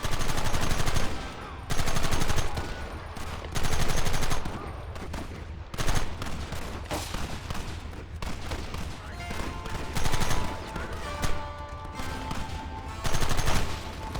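Sustained gunfire in the Red Dead Redemption video game, dense rapid volleys and bursts of rifle and machine-gun shots, loud and close, with brief lulls between heavy exchanges.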